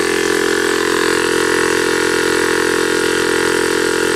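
A small, worn 12v air compressor with a repaired cylinder leak runs nearby in a loud, unbroken buzzing drone, steady from start to finish.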